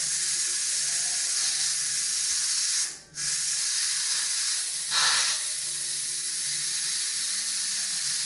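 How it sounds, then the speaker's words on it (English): Steam vents from an Instant Pot pressure release valve in a loud, continuous hiss. It breaks off briefly once and then surges again with a short spitting burst. "Once we release and vent the steam, we'll be able to open up and dig into it."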